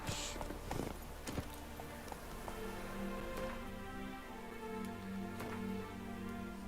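A horse's hooves beat in a steady clip-clop as it moves in The Witcher 3 video game, layered over a continuous game soundscape with a low hum.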